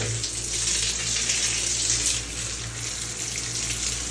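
Water pours steadily from a tap in a continuous, fairly loud broadband rush, with a slight dip in force partway through.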